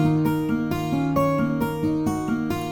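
A dry Omnisphere guitar preset with no effects plays a short repeating melodic figure, clean plucked notes in an even rhythm, clear and close with no voices.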